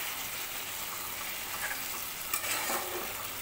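Chicken vuna masala fried in a pan with cardamom, cumin and pepper gives a steady close sizzle, with a few scraping stirs toward the end.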